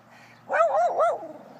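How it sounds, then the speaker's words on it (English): One dog from a household of seven lets out a single drawn-out, wavering bark, close and fairly loud, lasting under a second against a quiet background with no talk. "You barking at birds again?"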